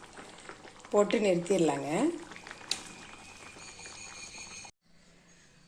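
Mango gravy simmers after curry leaves go in, a soft bubbling hiss running steadily under a voice and then cutting off abruptly near the end.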